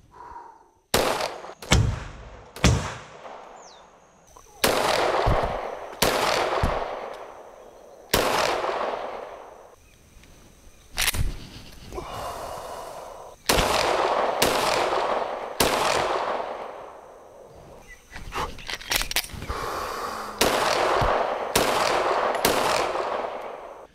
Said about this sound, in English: two shots body, one shot head